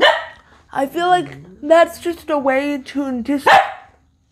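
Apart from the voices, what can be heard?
dog barking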